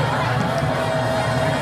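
Crowd noise at a homecoming night high school football game, Wichita Collegiate against Wellington: a steady, dense murmur of many voices filling the stands, continuous and moderately loud throughout.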